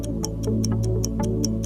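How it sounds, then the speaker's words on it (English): A wound alarm clock ticks steadily and close, about five crisp even ticks per second over a low background hum. "Amos wound his alarm clock."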